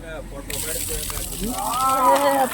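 Water flows and gushes on a hill, a steady rushing wash growing slightly louder, with a voice speaking briefly over it.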